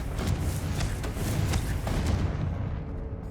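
Confringo fire spell explosions in the video game Hogwarts Legacy, a loud continuous barrage of booming blasts with crackling bursts filling the whole stretch, fading slightly at the end.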